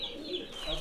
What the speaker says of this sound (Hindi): आज पहली दफा हमने अपने बगैर कबूतरों के पर काटे हुए उनको छोड़ दिया